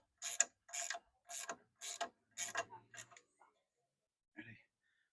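A ratchet clicks in a series of short, sharp bursts while crown nuts are loosened on the suspension of a 2018 Chevy Colorado ZR2 truck, followed by a brief pause and one last burst.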